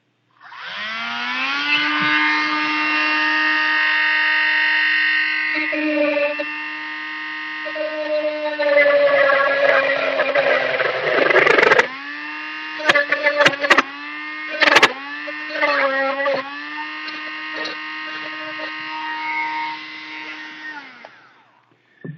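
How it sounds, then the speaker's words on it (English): A handheld Dremel rotary tool drills a hole through a fishing lure just behind the hook eyelet, a steady high-pitched whine that dips and surges under load with brief clatters midway, running continuously for about twenty seconds. "I'm going to basically drill a hole right in the center, about a 1/4 inch or so behind the hook eyelet"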